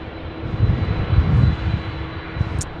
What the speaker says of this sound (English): the noise at the northern end of the field is coming in from the A330 that's just hanging off there at Bravo 1